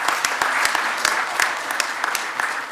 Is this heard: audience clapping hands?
yes